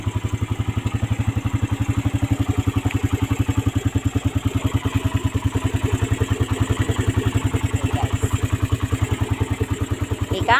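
Raider 150 motorcycle engine idling just after an oil change, a steady close-up putter with even low pulses and light mechanical clatter, running alone throughout.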